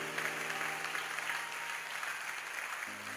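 A church congregation claps and applauds in a dense, steady wave of hand claps that carries on for several seconds, with a sustained musical tone humming beneath it.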